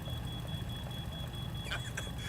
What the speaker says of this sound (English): Someone shut down that damn alarm!